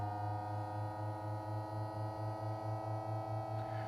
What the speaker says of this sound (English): press the open button and you'll hear the motor engage and the roof will start to open